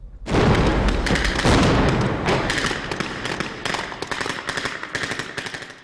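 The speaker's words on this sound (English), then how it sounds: "These explosions give us the feel, the blast, the heat." A rapid string of loud blasts and cracking bangs from a Secret Service training exercise, dense at first and then spaced into irregular bursts, with no voices.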